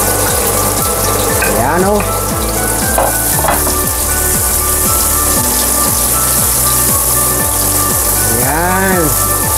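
Onions sizzle and fry in a pan for squid adobo, a steady close crackle throughout with music playing underneath and brief talk over it.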